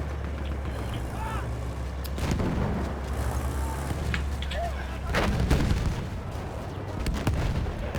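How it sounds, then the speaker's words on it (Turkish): Bombs and artillery exploding in the Battlefield 1 multiplayer war game, with repeated heavy booms and blasts rolling over a constant rumble of battle, loud and dense throughout, with some gunfire mixed in. "Abi sürekli bombalar, bombalar ne oluyor ya?"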